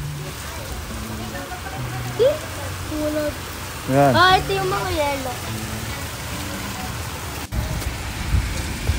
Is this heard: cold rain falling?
yes